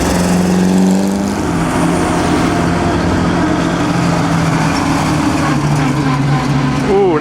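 BMW 550 car at the 2008 Mille Miglia with its engine running rough, a steady loud drone with wavering pitch and uneven tone throughout, mixed with other road noise and some voices.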